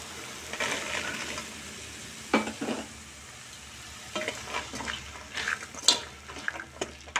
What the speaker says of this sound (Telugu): ఇవన్నీ వేసుకొని బాగా కలుపుకొని 1 నిమిషం 2 నిమిషాలు అలా ఉడకనివ్వాలి.